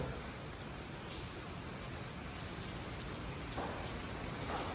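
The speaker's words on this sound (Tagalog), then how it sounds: "Ayan, umuulan." Steady rain falling, a continuous even hiss of drops with no voices, fairly soft and constant throughout.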